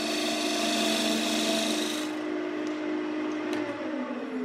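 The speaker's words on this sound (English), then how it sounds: "with my tool handle way down my side, I'm going to trim the edge" A wood lathe tool takes a very light trimming cut along the edge of a turned wooden plate. It makes a close, continuous raspy scraping that eases off after about two seconds, with a tool tap or two near the end.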